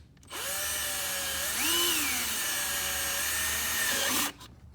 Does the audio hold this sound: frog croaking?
no